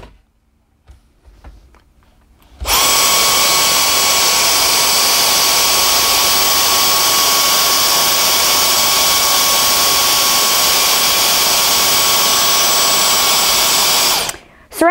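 A Dyson Digital Slim cordless stick vacuum switches on and runs steadily on a bare tile floor, a loud, even motor whine with a high tone that holds for about twelve seconds before cutting off abruptly.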